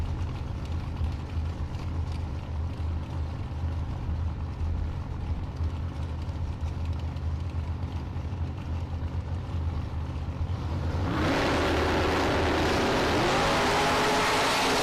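Drag race cars including a Mustang idle and rumble at the line, then launch hard with a sudden loud, broadband roar that surges and stays sustained, close by with no talk.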